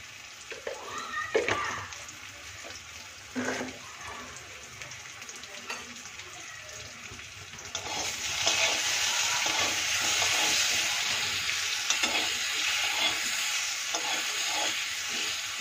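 Rohu fish pieces coated with salt and turmeric frying in a pan, quiet handling and stirring at first, then a loud continuous sizzle that holds steady for the second half.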